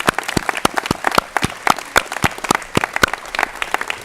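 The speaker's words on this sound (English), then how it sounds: "How about another round of applause for that fantastic band?" A crowd applauding a band at a Memorial Day commemoration at the Nixon Library, sharp individual claps clearly separated in an irregular rhythm, close and fairly sparse.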